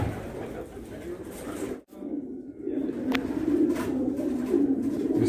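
Pigeons coo inside a pigeon loft in Qassim, Saudi Arabia, their soft repeated calls filling the space at close range, with a few brighter chirps and someone speaking intermittently over them.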